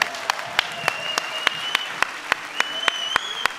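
An audience claps at a French goguette singing event: a crowd's applause continues throughout, with sharp, regular loud claps standing out at a steady beat near the listener, suggesting rhythmic clapping along.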